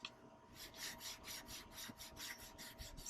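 Someone scrubs a leather car seat with Chemical Guys leather cleaner. The strokes come as a quiet, steady rhythm of back-and-forth rubs, about ten in a row.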